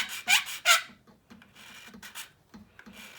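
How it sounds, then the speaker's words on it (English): A hand file lightly scrapes a plastic part of a 1/32 scale Pacific Coast Models Mk. XIVc Spitfire kit, giving several close, bright rasping strokes, loud at first and then softer and quicker. "So I'm just lightly going over with my file. And I'm just going to take a little bit off at a time."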